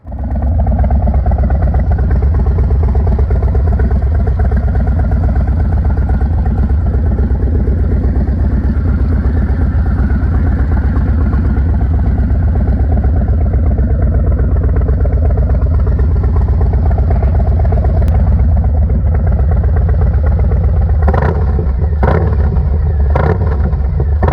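Harley-Davidson Softail motorcycle with a newly installed exhaust riding along a street, a loud continuous deep rumbling engine note throughout, with a few sharp clattering pops near the end.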